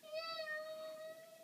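A human voice imitates a kitty's meow, a single drawn-out, faint, high tonal call lasting just over a second.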